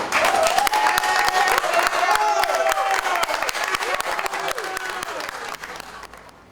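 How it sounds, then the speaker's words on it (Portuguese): An audience breaks into loud applause and cheering for a poetry performance, a dense crowd sound that stays strong and then slowly tapers toward the end. "Pessoal, muito barulho, uma saraivada de palmas para a Sacolinha!"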